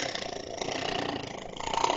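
A person imitates a loud purr, a steady rough rumbling drone with a slightly pulsing texture, held close and fairly quiet for about two seconds.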